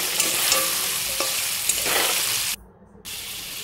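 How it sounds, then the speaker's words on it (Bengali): Potatoes and chickpeas frying in a pan, a steady sizzle with stirring scrapes, close and continuous, briefly cutting out near the end before resuming. "এবার এটা আমার আলু ছোলা ভাজা হয়ে গেছে"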